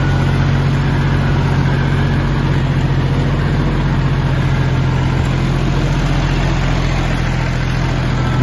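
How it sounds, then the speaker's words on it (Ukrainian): A small farm tractor engine idles steadily and loudly close by, a constant low throbbing hum that stays even throughout with no talking. "Мотор дуже файно робить, чітко, тихо, без збоїв"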